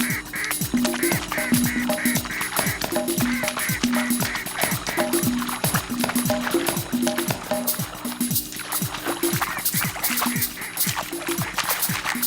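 Repeated quacking from young ducks, rhythmic and close, calling over and over through the whole stretch.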